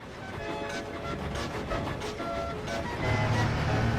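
Trains rumble and rattle far off in a faint, continuous wash of noise, with a low hum growing slightly louder toward the end.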